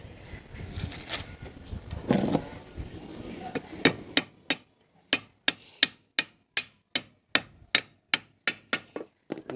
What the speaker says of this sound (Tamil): இதை வந்து வச்சு ஆணி வந்து அரைஞ்சிக்கிறேன்.